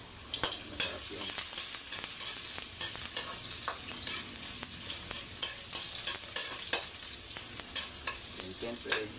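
Ginger sizzles in a hot pan at the start of a mussel dish, a loud continuous frying hiss with frequent stirring clinks and scrapes throughout.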